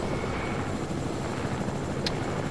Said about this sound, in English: I got a landmine strapped to the back of my helicopter that I put there earlier